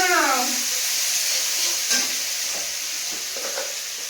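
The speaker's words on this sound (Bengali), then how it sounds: "এবার দেবো আদা রসুন বাটা।" Ginger garlic paste hits goat meat in a hot pan with a loud, steady sizzle that hisses continuously, with a brief stirring scrape near the start.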